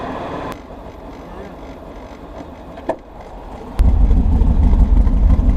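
An LS7 V8 engine in an S10 truck, idling with a light blip of throttle, the steady low rumble swelling louder toward the end.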